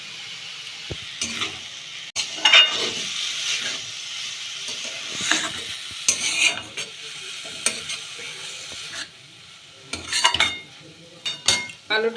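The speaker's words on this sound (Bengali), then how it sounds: "চিনিটাকে দিয়ে ভালো করে মিশিয়ে নেব" Sugar is stirred into potato payesh in a pan on the stove, with a spoon scraping in repeated strokes over a steady low cooking hiss, and occasional louder clatters of utensil against metal.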